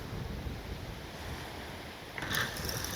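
Strong wind gusting around a corner on a sea-fishing beach buffets the microphone with a steady rushing roar, and a brief rattling clatter rises near the end.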